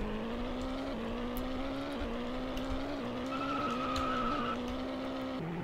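Roblox Vehicle Simulator supercar at high speed, a steady engine drone running throughout with tire skid squeals rising over it, loud and continuous with no talk.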